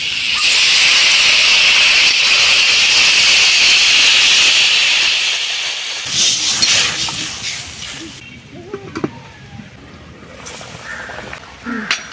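Water poured into a hot pan with turmeric and chilli powder bursts into a loud, steady steam hiss that holds for several seconds, then fades into quieter bubbling and clattering in a cold rural kitchen setting.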